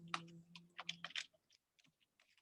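Keys on a computer keyboard clatter in a quick, close burst of keystrokes, then thin out into a few sparse, quiet taps.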